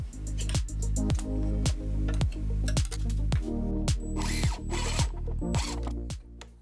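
Power drill driving screws into a drawer face on a vintage end table, in a steady run of about ten short whirring bursts, each ending with a brief clutch ratchet as the screw seats, close and loud with no talk.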